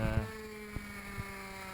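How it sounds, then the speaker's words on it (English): A racing motorcycle engine drones with a steady hum at constant revs in third gear, holding a constant pitch throughout, with a few faint clicks near the start and middle. "revved it down to third gear, kept the revs nice and constant"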